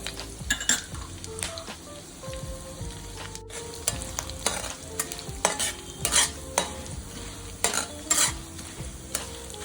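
Chana dal, urad dal and curry leaves frying in hot oil, a busy crackling sizzle broken by repeated sharp clinks and scrapes of a spoon stirring against the pan.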